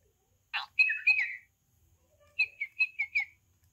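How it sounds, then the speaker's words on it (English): Electronic toy bird chirping right after being switched on: a bright, close burst of warbling tweets, a pause, then a quicker run of five chirps, with nothing else around it. "I'm gonna turn this on and see what this toy bird does."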